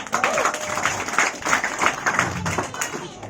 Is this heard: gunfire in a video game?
no